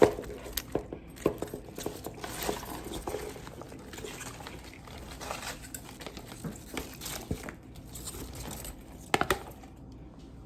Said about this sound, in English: And then We're gonna add in our cabbage.